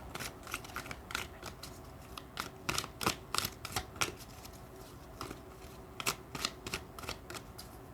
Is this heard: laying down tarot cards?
yes